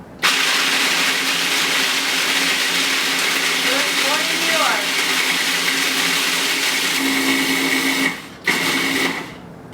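A loud motorized kitchen appliance grinds steadily while crushing cookies into crumbs, with a brief pause and restart near the end; a voice speaks briefly over the whirring.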